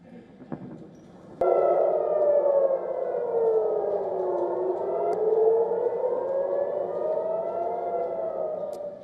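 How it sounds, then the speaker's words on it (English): Air raid sirens wailing during an overnight missile attack on Tel Aviv, a loud rising and falling civil defense tone that starts abruptly after faint background noise and carries on steadily, with no talking. "A missile was also seen striking Tel Aviv as sirens sounded"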